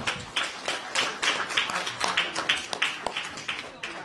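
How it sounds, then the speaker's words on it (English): Several people clap at a legislative caucus gathering to welcome a senator joining the majority caucus, a short, close, uneven round of applause with distinct hand claps over roughly four seconds. "give a round of applause to Senator Sarauw's joining the majority caucus."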